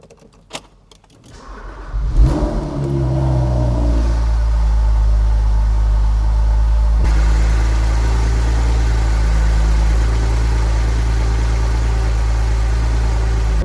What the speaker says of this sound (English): we are about to start this beautiful Porsche Spyder 987